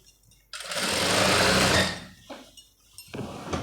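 Sewing machine stitching falls onto a saree, a short burst of fast, loud mechanical whirring that stops, followed by quieter handling noises and a brief restart.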